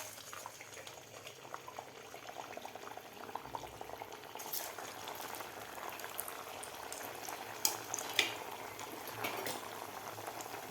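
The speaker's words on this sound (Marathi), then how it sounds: "व्यवस्थित आपल्याला हे वडे तळून घ्यायचे आहेत दोन्ही साईडकडून" Sabudana vadas deep-frying in hot oil make a quiet, continuous bubbling fizz, with a couple of brief louder crackles partway through.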